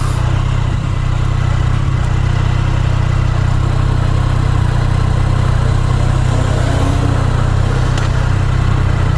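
A Triumph Street Triple motorcycle engine runs steadily at a low, even idle with a deep constant hum, close and continuous, with faint traffic noise around it and no talking.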